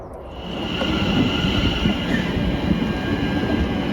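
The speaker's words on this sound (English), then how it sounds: "That's train, Zeph." A train rumbles steadily nearby, a dense low roar with a faint high whine of wheels on rails, growing slightly louder after the start.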